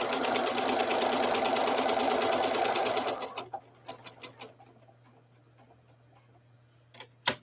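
A sewing machine stitching a quarter-inch seam around two fabric squares sewn right sides together, running as a steady loud mechanical whir for about three seconds, then stopping, followed by several clicks and taps and a low hum.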